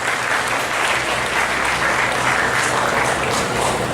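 An audience at an HR Meet 2014 panel discussion applauds a guest panelist, the GM HR of Supreme Industries Limited. The clapping is loud, steady and continuous from a large crowd, with no talk over it.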